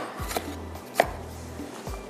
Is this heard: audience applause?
no